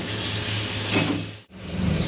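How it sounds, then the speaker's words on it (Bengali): Mushrooms lightly frying in a pan alongside chopped green chillies, giving a steady broadband sizzle with a brief louder flare midway and a short dip near the end, no voices. "প্রথমে দেব আমি একটু হালকা একটু ভেজে নেব"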